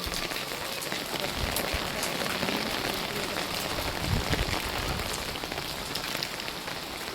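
Steady rain falls outdoors onto umbrellas and surrounding surfaces in the morning, a dense continuous patter with occasional heavier drops close by and faint footsteps underneath.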